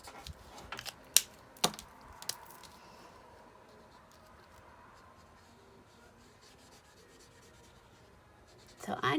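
Pens or markers scratch and rub as stamped images are coloured in, with a few sharp taps early on, then soft scratching strokes and a louder burst of rubbing at the end.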